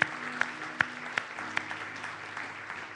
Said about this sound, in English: the clapping was our prayer there